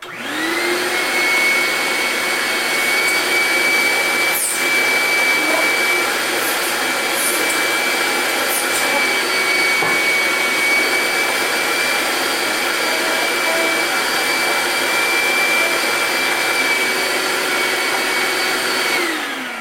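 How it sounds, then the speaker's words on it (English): A wet-dry vacuum roars steadily and loudly throughout, extracting water from a screen, a continuous motor whine with a high tone, running close and uninterrupted. "what we recommend is using a vacuum to extract most of the water from the screen"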